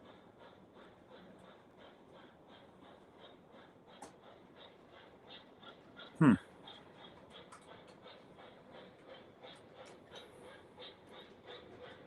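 A model train locomotive chuffs in a quick, even rhythm at moderate volume, with one sharp louder knock partway through and a faint murmur of voices in the room.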